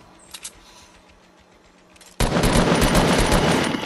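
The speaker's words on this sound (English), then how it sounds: "I missed every shot" Rapid video game gunfire in a battle royale match bursts in suddenly after a quiet stretch, a loud dense volley of shots that keeps going to the end.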